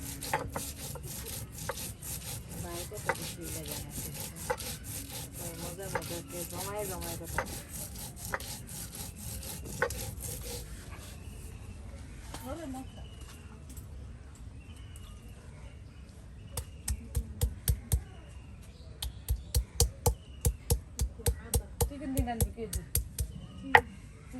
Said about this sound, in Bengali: দেখুন কত সুন্দর করে একদম বেটে নেওয়া হচ্ছে